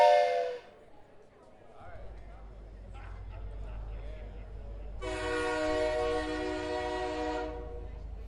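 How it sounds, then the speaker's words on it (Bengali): A brief shrill whistle, then a low rumble and a loud, sustained train horn as the Bombay Mail pulls out of the station, the horn blaring for a couple of seconds over the rumble. "গার্ডের হুইসেলের সঙ্গে সঙ্গে ট্রেনের ভোঁ শোনা গেল"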